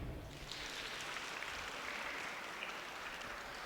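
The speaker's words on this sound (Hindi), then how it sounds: "जोरदार तालियां" An audience at a youth motivational talk bursts into applause, a continuous, even rush of many hands clapping that sounds faint and distant, with no voices over it.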